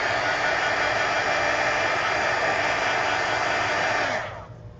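A hair dryer blows steadily at close range to dry coloring on a book page, a loud continuous whoosh that winds down and cuts off near the end.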